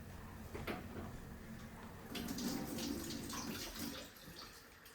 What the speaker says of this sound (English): I'm just putting some water around the edge because this dough is really sticky.